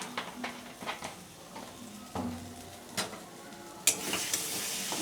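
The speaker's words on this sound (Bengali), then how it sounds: "মশলা আমার ভালো মতো করে ভাজা হয়ে গেছে" Spice paste fries quietly in a pan for a bata fish oil-jhal curry, a low sizzle broken by several sharp scraping stirs of a utensil against the pan, ending in a brighter burst of sizzling.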